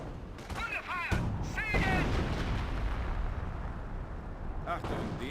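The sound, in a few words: artillery fire in Company of Heroes video game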